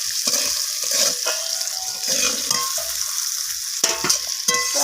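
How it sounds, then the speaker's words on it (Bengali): Potato pieces frying in oil with salt and turmeric produce a loud, close, continuous sizzle, broken by repeated stirring scrapes and knocks of a utensil against the pan; no speech. "তো লবণ আর হলুদটাকে মিশিয়ে নিয়ে আলুটাকে আবারও নাড়াচাড়া করে ভেজে নিচ্ছি।"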